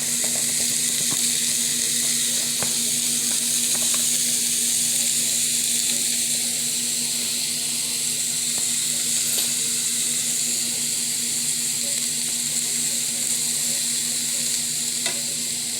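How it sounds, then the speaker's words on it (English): Green pepper, red pepper and onion sizzle in a little leftover oil in a pan while making a Bronx bodega-style chopped cheese sandwich, giving a continuous, steady hiss with occasional small crackles and no talking. "This is when you add your green pepper, red pepper, and onion. Get that sizzle."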